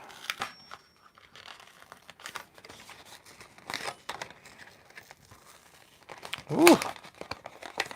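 Scissors cutting watercolor paper for a shabby vintage tag, a few soft crinkling snips spread through the clip with one louder crunching cut near the end, with a brief murmured exclamation.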